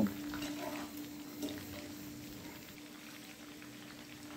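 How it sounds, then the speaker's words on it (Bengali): Chicken pieces for chicken 65 bubble and sizzle in hot oil, a faint, steady crackle with a constant hum behind it and a few louder pops near the start. "এইভাবে নাড়িয়ে চাড়িয়ে 5 থেকে 10 মিনিট লাগবে ভাজতে চিকেনগুলো।"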